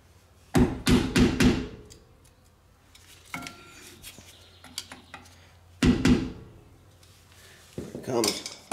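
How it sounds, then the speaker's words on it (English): Metal tool whacking a trailer hub with electric brakes to knock it off, a burst of rapid loud clanging strikes, scattered knocks, then another quick cluster of hits, close by with a little background noise. "Keep whacking at it."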